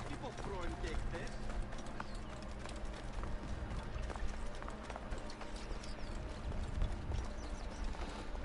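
Horse hooves galloping in a clip-clop rhythm in Assassin's Creed Origins, set in ancient Egypt, steady and continuous, with ambient birds and talk in the background.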